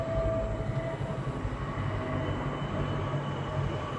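A train arriving at Sorting Factory in the Apex Legends video game rumbles steadily and evenly throughout, with a faint tonal whine and no talk.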